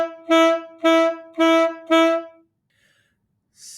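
Four short detached notes repeat evenly at the same pitch, each clipped off with a small gap before the next, then silence and the start of a faint fifth sound.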